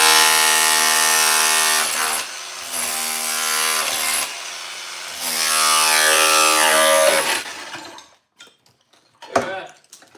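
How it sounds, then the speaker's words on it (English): Angle grinder cutting through an old tile floor during demolition, a loud steady high-pitched whine with a strong tonal drone, briefly dipping twice before cutting off, leaving quiet clatter and a short knock near the end. "I could take my grinder and do it."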